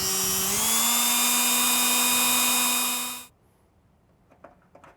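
A power drill runs steadily as it bores a 5/16 hole into a Cybertruck, holding a high whine for about three seconds before cutting off abruptly, followed by faint clicks.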